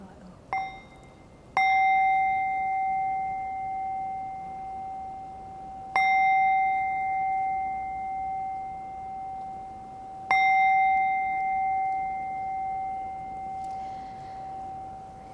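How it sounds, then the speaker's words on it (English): Meditation bell in a Buddhist Dharma talk setting, struck three times with long ringing tones that slowly fade between strikes, clear and resonant in a quiet room. "let us enjoy 3 sound of bell"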